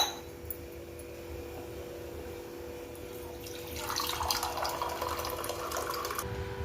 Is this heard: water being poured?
yes